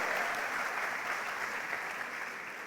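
A church audience applauds for mothers during a sermon, steady, dense clapping from a crowd that fills the whole moment without any talk over it.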